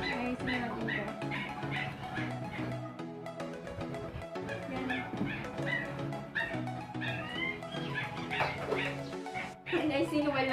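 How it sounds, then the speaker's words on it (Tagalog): A small pet dog barks and yips repeatedly in a home while people chatter loudly nearby; the high, sharp yaps keep coming through most of the stretch, mixed with the voices. "Tapos yung aso namin nang iingay."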